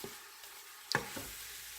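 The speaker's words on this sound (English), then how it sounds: "as you can hear, it's starting to sizzle" Ground hamburger meat sizzles faintly in a Power Pressure Cooker XL, a soft crackling hiss broken by a few quiet scraping stirs of a spoon.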